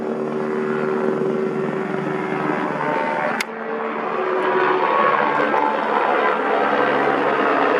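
A police helicopter flies low directly over a house, its loud, steady rotor and engine drone filling the air and swelling slightly as it passes close overhead.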